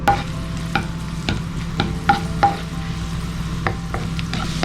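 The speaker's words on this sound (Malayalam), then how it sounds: "ഈ നെയ്യിലേക്ക് കുറച്ച് ഉണക്കമുന്തിരിയും കശുവണ്ടിയും നമുക്ക് ഒന്ന് വറുത്തെടുക്കാം" Raisins and cashews fry in ghee for a broken wheat laddu, giving a low steady sizzle with regular taps and scrapes of a spoon stirring the pan, close up, no voices.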